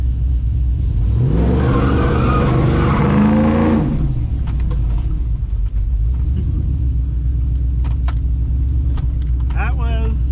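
A Chevrolet Trailblazer SS holds on two-step launch control against the brakes, its engine giving a loud, steady, stuttering rumble for a few seconds before dropping back to a lower idle, with people talking faintly afterward.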